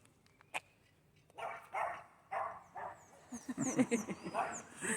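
A dog gives a series of soft, muffled barks and yips, faint and somewhat distant, with a low voice murmuring in the background.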